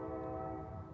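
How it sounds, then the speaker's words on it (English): A train horn sounds as one loud, sustained, steady chord with stacked harmonic tones, held without a break for the whole second. "That's the train."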